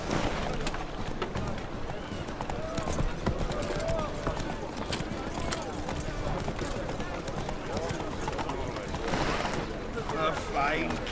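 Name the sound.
horse hooves clip-clop in The Witcher 3 video game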